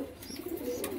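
A pigeon coos softly nearby, a low, wavering throaty sound repeated over about a second with faint background noise and no talking.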